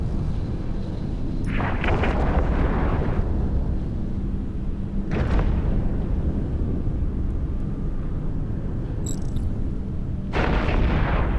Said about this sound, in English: The whole crew is ramming the Chimera.